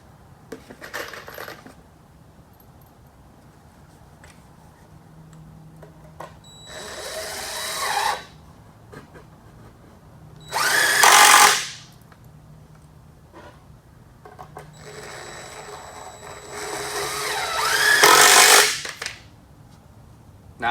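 Power drill driving screws into wooden boards of a carpet-topped shooting bench: four separate bursts of whirring, each rising to a loud grinding whine before stopping, with quiet pauses and faint handling clatter between them.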